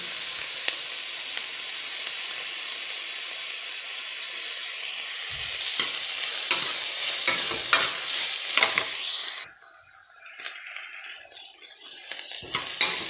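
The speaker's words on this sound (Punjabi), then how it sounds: "ਇਹਨਾਂ ਨੂੰ ਕਿਰਾਂ ਇਸੇ ਤਰ੍ਹਾਂ ਭੁੰਨ ਲੈਂਦੇ ਆਪਾਂ" Onions for a capsicum curry fry and get stirred in a pan. A loud, close sizzle carries repeated scraping strokes and clatter of the spoon, and the hiss flares sharply near the end, with no speech.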